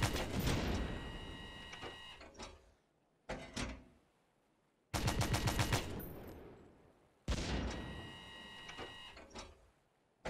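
A belt-fed autoloader tank gun in Stormworks fires in loud bursts, four rapid mechanical clattering volleys separated by short pauses, each ending with a ringing cycling action and no voices.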